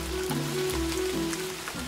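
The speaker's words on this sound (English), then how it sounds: "That water's coming from the sprinkler system." Water sprays from a sprinkler system and patters down like steady rain onto surfaces, with dense close droplets over a low background hum.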